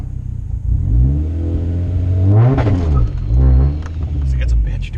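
Turbocharged Honda CR-V revving as it launches softly from a stop, engine note rising in two swelling pulls with the clutch working, close and loud, with people talking over it.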